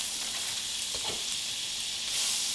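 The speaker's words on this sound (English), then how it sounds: "put about, a half stick of butter in here. And start cooking my little onions" Onions cooking in about half a stick of butter in a pan give a steady, close sizzle, with faint scraping as the mix is moved around the bottom, and no voices are heard.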